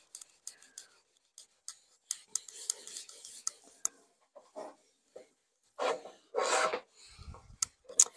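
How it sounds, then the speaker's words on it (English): Cloth buffing wax off a painted Dollar Tree metal pizza pan, heard as a series of short, close rasping rubs in irregular bursts, some longer and louder strokes near the end, with no talking. "Now I'm going to turn this over and I'm going to buff most of this off."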